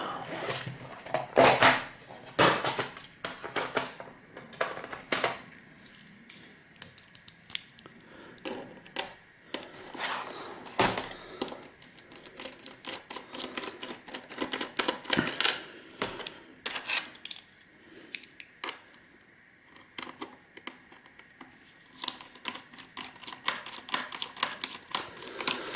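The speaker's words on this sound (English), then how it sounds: "I'll start by removing the screws in the base" Screws being taken out of the underside of laptop bases for gold recovery, a run of small close clicks, taps and scraping handling noises with an irregular rhythm, fairly quiet throughout.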